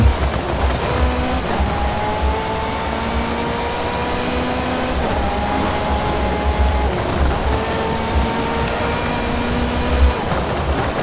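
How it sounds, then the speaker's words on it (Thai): Heavy storm rain in a racing video game, with a steady dense hiss of downpour over a low engine drone from a Ferrari F40, continuous and loud throughout. "พายุแรงมากเลยฮะ"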